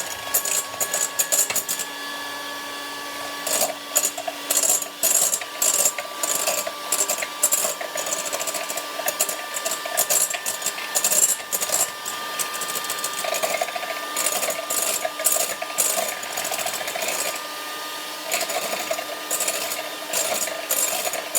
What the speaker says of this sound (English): we're just going to mix this until it becomes fluffy